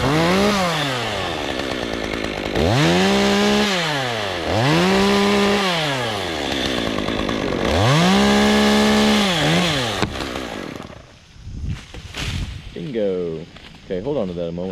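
A chainsaw notching a massive tree revs in repeated rising and falling surges, loud and close, then cuts off; voices come in afterward.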